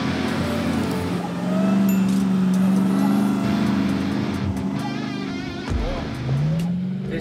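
A supercharged 4x4 truck on 37-inch tires drives in third gear across beach sand on Fraser Island, its engine droning loud and steady with a brief rise in revs near the end, no talk over it.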